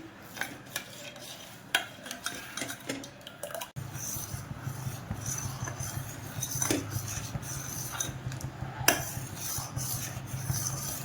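A spoon stirs sugar into sweet fruit custard in a pot, with soft clinks and rubbing scrapes that give way to a steadier, denser stirring with a low simmering undertone, close and moderately quiet.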